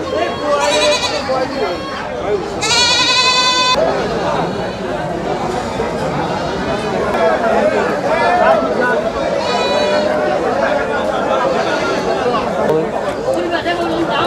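Black Bengal kid goats bleat in repeated loud, wavering calls at the Dhelapir weekly livestock market, rising over a steady din of crowd chatter and voices close by.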